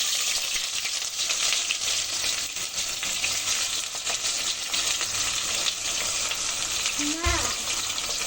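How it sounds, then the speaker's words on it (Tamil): About 250 grams of onions fry in oil with whole spices for chicken dum biryani, giving a loud, dense, continuous sizzle close by, with a brief tonal chirp near the end. "இப்போ ஆனியன் வதங்கிட்டு இருக்கையிலேயே"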